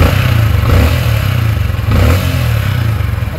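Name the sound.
Sniper 155 motorcycle engine revving after tensioner adjustment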